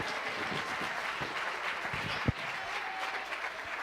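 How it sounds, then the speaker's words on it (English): An audience at a university chemistry demonstration night breaks into dense, steady applause with a sharp thud partway through, holding a constant level throughout. "Everyone give a round of applause for Lauren"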